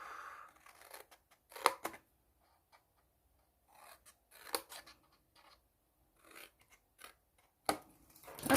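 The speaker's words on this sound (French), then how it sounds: "On coupe les 4 languettes" Scissors snipping through the four cardboard tabs of a gift box, close and crisp, in short clustered cuts separated by quiet pauses.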